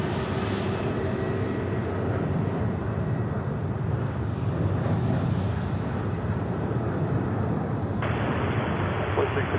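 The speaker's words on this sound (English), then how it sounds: "This one is coming from Denver in Colorado. That is a 321 Neo." An Airbus A321neo airliner arriving at Charlotte airport, its engine roar a steady broadband rumble heard from a distance, holding constant throughout without any voices.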